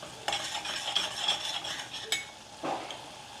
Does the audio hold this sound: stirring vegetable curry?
yes